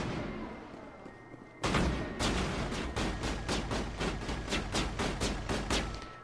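Enemies open fire in the video game Mass Effect, a rapid string of loud, evenly spaced gunshots that begins abruptly and keeps going for several seconds.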